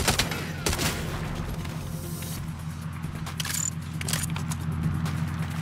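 Turret gunfire and explosions in the Saints Row video game, dense continuous rattling bursts with heavy booms over a rumbling battle background, no talk.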